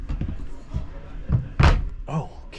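A door inside a truck camper is shut with a sharp, close thud, followed by a softer knock, while people talk nearby.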